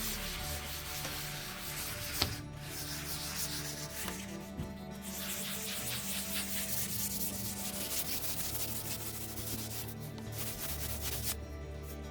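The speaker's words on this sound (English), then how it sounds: "I used a 60 grit sponge that is okay for wet sanding." Steady rhythmic scratching of a 60-grit sanding sponge rubbed back and forth on painted knotty wood furniture, close and continuous, with a couple of faint knocks.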